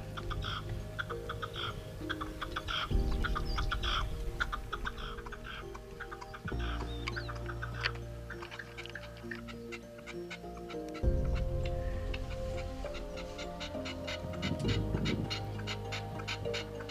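A decoy partridge calls during a partridge hunt, repeated chirping and clucking notes in short bursts over a steady outdoor background, with no talk.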